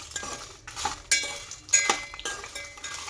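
Dried red chillies being stirred in hot oil in a pan over low heat for gongura chutney, a spoon scraping and clinking against the metal at irregular intervals, close and fairly quiet, no talk.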